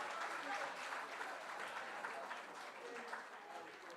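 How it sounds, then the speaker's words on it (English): Audience clapping at a World Parliament Day launch event, a moderate, steady ripple of applause across the room that tapers slightly toward the end. "Please clap for them."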